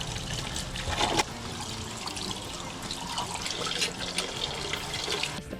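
Running water splashes steadily at a campsite sink or tap while dishes are washed by hand, a continuous close trickle with a brief louder clatter near the start and end.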